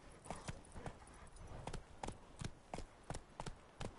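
Horse Roach gallops in a PS4 video game, hoofbeats thudding in a quick, regular rhythm of close, clear clops throughout, with no voice over them.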